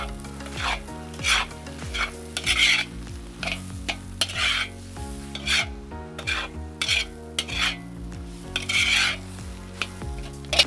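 Beef and onions sizzle in a hot pot with paprika while a utensil stirs and scrapes through them in uneven bursts, with steady frying crackle underneath.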